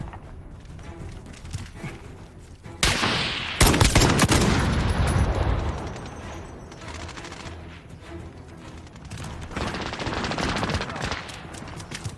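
Rapid SKS marksman rifle fire in Call of Duty Modern Warfare, a loud burst of overlapping shots that swells to a dense roar and then trails into scattered distant gunfire and game ambience.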